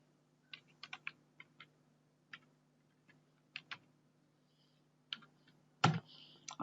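Keys clicking on a computer keyboard in short, uneven bursts with pauses between them. A steady low hum sits underneath and one louder clack lands near the end.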